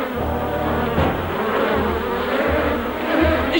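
Insect buzzing, mosquitoes in a swamp, drones steadily at close range for several seconds, a continuous whining hum with slight swells and a brief bump near the start.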